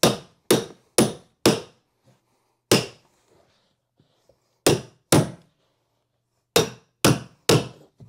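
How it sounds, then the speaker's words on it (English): A hammer strikes a carpet tucker, pressing carpet onto smoothedge gripper pins in sharp, close blows, four in quick succession, then single knocks and further short bursts separated by quiet pauses. "Now, let's take our hammer and our tucker."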